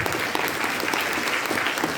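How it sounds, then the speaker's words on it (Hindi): Audience applause at a Rajyoga meditation talk, a dense, even wash of many hands clapping at close range for the full stretch without a break. "इनकी ईमानदारी के लिए तालियां बजाएंगे आप।"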